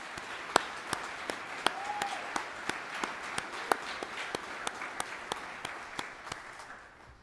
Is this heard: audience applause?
yes